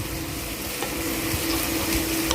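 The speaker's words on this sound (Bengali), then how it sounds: "সো হাই হিটে কন্টিনিউ 3 থেকে 4 মিনিট ভাজার পরে আমার পেঁয়াজের বেরেস্তাটা প্রায় রেডি হয়ে গিয়েছে" Sliced onions fry in plenty of oil on high heat while being stirred continuously, a loud, steady sizzle with a faint scraping of the spoon and small crackles, close and without talk.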